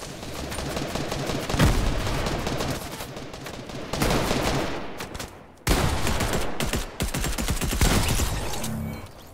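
Rapid, sustained bursts of automatic gunfire in a shooter video game, dense and loud, firing almost continuously with brief gaps and no talk over it.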